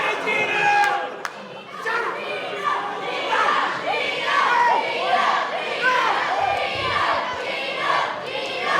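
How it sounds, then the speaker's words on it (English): A wrestling crowd at a VCW heavyweight match featuring Gino Medina and Papadon chants and cheers in a rising and falling din, with overlapping shouting voices and chatter throughout. "This crowd once again trying to get behind Gino"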